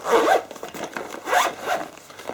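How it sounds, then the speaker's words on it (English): A Kbag Mini vape carrying bag being zipped shut, a close, loud zipper rasp in two or three quick pulls with short pauses between, heard alone without speech. "and zip it up quite nicely"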